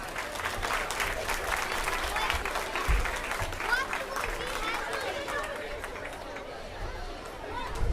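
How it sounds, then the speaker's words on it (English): Applause from the crowd at a youth swine show, brisk clapping mixed with chatter and background voices, loud at first and thinning toward the end. "Let's give them all one more big round of applause."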